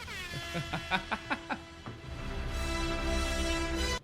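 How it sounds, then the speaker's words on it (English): A series of short, rhythmic air horn blasts, followed by one long sustained blaring horn that cuts off abruptly. "I love you have the air horn effect"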